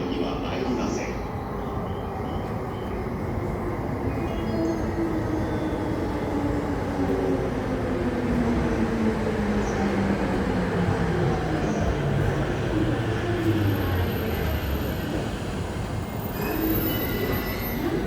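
E231 series commuter train on the Musashino Line pulling into a station platform, a loud rolling rumble with descending brake tones and wheel squeal as it slows, steady throughout without spoken words.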